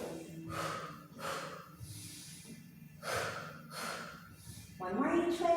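Slow, deep breaths in and out during a yoga twist, several long airy inhales and exhales in a steady rhythm, close and fairly soft, with a voice joining near the end.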